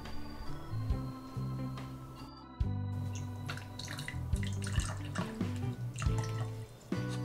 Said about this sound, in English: And now let us begin pouring.